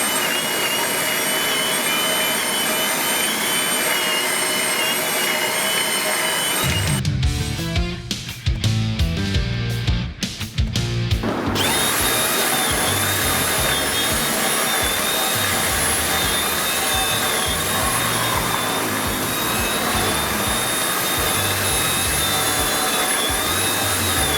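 A loud, steady power drill motor whine runs throughout, broken by a few seconds of rough grinding and chattering as a 26 mm hole saw cuts into wood.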